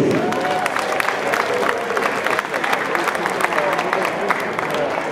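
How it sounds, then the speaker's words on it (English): An audience at a cosplay contest final at a comic convention applauds steadily throughout, dense clapping with some crowd cheering, fairly loud and close, with a voice briefly audible over it. "Give a big round of applause for Metro."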